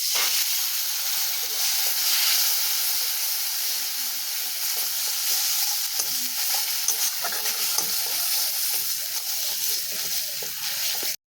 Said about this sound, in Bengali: হালকা একটু কষিয়ে তারপর একটু জল দিয়ে দেবো।